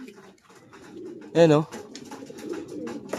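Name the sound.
pigeons cooing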